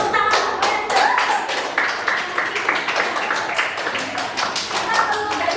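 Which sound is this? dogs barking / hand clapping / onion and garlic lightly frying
hand clapping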